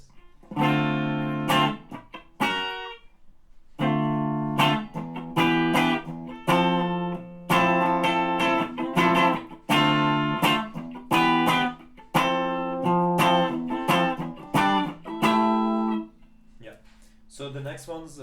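Electric guitar playing the rhythm part of a song, with choppy chords broken up by muted dead-note strokes, repeating in bursts with short gaps over many bars, loud and close with no voice.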